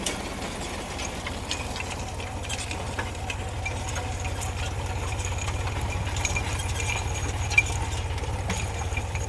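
A tractor engine running at a steady idle, a low continuous rumble with faint rattling, heard alone without talk.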